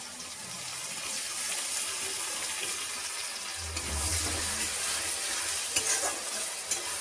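Ginger garlic paste and onions fry in a pan for a country chicken curry, a loud, continuous hissing sizzle with wet stirring, swelling briefly midway and punctuated near the end by a couple of sharp spoon knocks.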